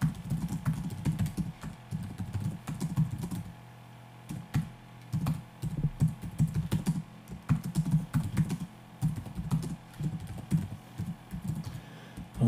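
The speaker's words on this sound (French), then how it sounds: "là j'appuie sur barre espace, et je tape mon texte" Keys clatter on a computer keyboard while text is typed into Microsoft Office, including a press of the space bar, in quick irregular bursts of close clicks separated by short pauses, with no talking.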